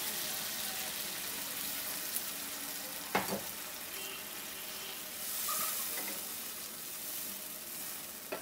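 Bengali-style tilapia dopiaza masala sizzles and hisses steadily in a pan after water is added, a continuous close frying sound with a brief clink partway through.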